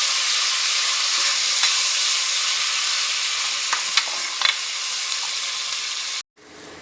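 Onions frying in a pan for a veg pulao, a steady bright sizzle held close for several seconds with a few faint stirring taps, then cutting off abruptly near the end.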